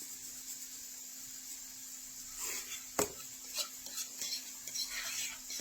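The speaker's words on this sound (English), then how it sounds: "probably about a half a cup of Italian breadcrumbs and just mix them in" Italian breadcrumbs being stirred into a squash mixture in a bowl, a steady scraping stir with a sharp utensil knock near the middle, then light clinks and scrapes, close and fairly quiet with no talk.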